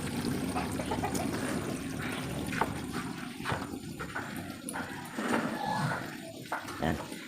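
Water leaking from a washing machine, trickling and dribbling irregularly with splashes and gurgles, close by, with faint background hum and no clear speech.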